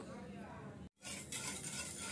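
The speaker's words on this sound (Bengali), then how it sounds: "আমি এখানে নেড়ে চেড়ে একটা শিরা তৈরি করে নিচ্ছি।" Sugar and water being stirred into syrup in a pan on the stove make soft scraping and clinking utensil sounds over a low bubbling sizzle, with a brief silent gap midway and faint voice in the background.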